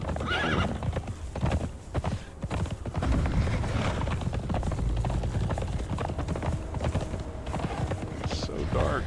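Mount's hoofbeats from the Conan Exiles video game, clip-clopping steadily and close, with whinnies and neighs, under game ambience and occasional background voices.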